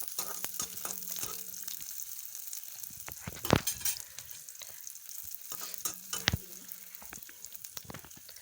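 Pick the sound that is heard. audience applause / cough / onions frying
onions frying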